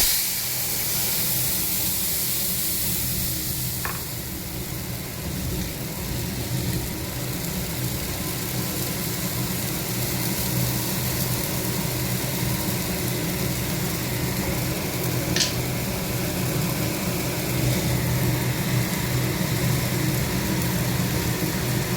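Spices hit hot oil with cumin, bay leaf and dry red chili for a small-fish curry, and a steady close hissing sizzle carries on through the whole stretch with a couple of brief sharp ticks and no talk.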